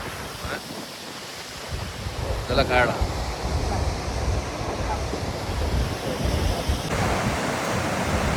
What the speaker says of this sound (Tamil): பாருங்கள் தண்ணி விழுந்து அப்படியே சாரல் மாதிரி வருது, மழை சாரல் மாதிரி.